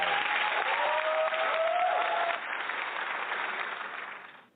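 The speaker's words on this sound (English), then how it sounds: "Audience, big round of applause." A studio audience applauds in a dense, continuous wash of clapping that holds steady and then fades out toward the end.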